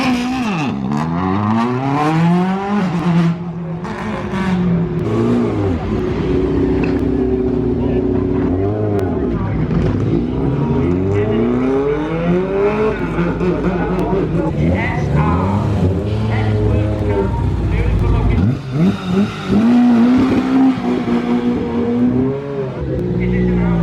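A Ford Sierra rally car launches from the start line, its engine revving hard through repeated rising and falling gear sweeps, loud and close, with brief lulls before climbing again.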